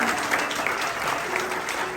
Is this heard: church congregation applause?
yes